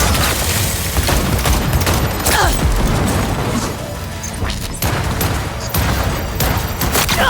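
Sustained gunfire in the video game Cyberpunk 2077: loud, dense volleys of shots and crashing impacts that keep going without a break.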